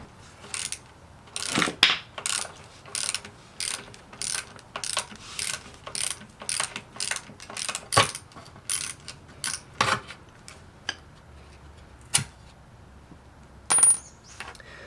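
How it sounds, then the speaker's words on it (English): Mechanic's ratchet wrench removing transmission bolts on a 1967 Camaro, a quick series of clicking ratchet strokes and metallic clinks repeating steadily, close and fairly quiet, with a few sharper knocks. "So I'm going to also have to take those off as well."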